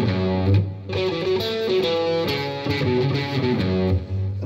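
An electric guitar plays a riff through heavy distortion. Chunky, rhythmic chord stabs and short note runs sit close and fairly loud, with no voices over them.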